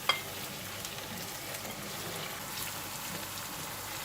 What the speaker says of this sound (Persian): گوشت همون در حال سرخ شدنه با پیاز